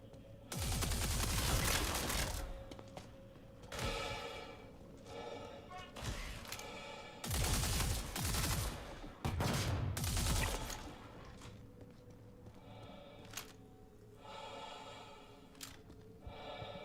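Gunfire in Star Citizen, loud bursts of rapid shots and fusillades in several clusters separated by quieter gaps, with voices talking over parts of the action.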